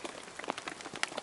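Light rain shower at a deer camp shelter, soft scattered patter of drops hitting surfaces, quiet and brief.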